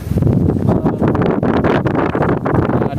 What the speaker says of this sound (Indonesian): Kami disambut oleh angin yang kencang dan juga kabut yang